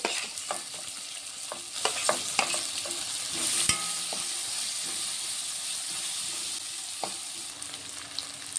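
Sliced onions and green chillies with fenugreek seeds frying in a pan for a capsicum masala curry: a continuous close sizzle and hiss broken by repeated scraping stir strokes.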